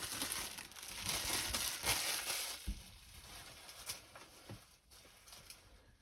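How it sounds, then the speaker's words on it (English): Shrink-wrap cellophane pulled off a Dabble diamond painting kit, close crinkling and crackling plastic in irregular bursts that fade toward the end. "Let's take the cellophane off"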